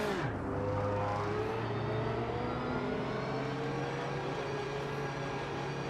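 Corvette GT3 race car in the Project Motor Racing game revving loudly and steadily through its gears, the engine note climbing and holding in a continuous close drone with no talk.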